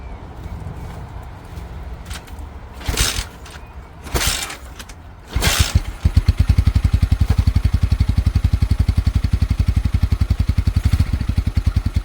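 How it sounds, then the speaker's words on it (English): A cheap secondhand motorbike is started and warmed up: a few bursts of cranking and revving, then the engine settles into a loud, steady, fast-pulsing idle close by for the last half, with no talk. "I'm going to get the bike warmed up"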